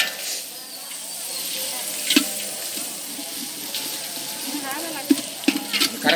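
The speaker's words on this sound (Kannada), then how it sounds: "ಫ್ರೈ ಮಾಡಿ" Masala frying in a pan while making aiguli, a steady soft sizzle with scattered clicks of stirring and a few sharper clinks near the end; the sound stays mid-level and close throughout.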